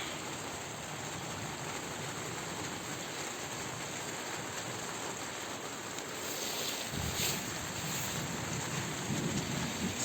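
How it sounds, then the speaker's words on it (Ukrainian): Steady rain falling, a continuous hiss of drops with no voices. "Так, дуже шкода, що дощик падає"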